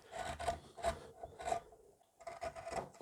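A small spoon gouge cuts into wood to take out a hump in a hollow, giving repeated short rasping, scraping strokes close by, with a brief pause before the strokes resume.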